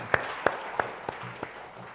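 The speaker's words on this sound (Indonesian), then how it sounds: "Berikan tepuk tangan." A handful of separate claps at a church worship service, spaced evenly and fairly faint, with a low hum of the hall underneath and no one speaking.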